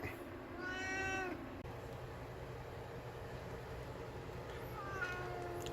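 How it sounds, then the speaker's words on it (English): A cat at a lake gives two drawn-out meows, one near the start and a fainter one later, over quiet outdoor ambience. "Lake cat refuses to leave lake."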